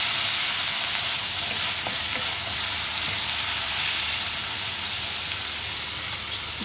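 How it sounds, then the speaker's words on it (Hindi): Ginger and garlic frying in a pan with cumin, a loud, close, steady hiss of sizzling oil with faint stirring, alone without voices. "अब हम इसमें अदरक लहसुन डालेंगे, हल्का सा फ्राई करेंगे"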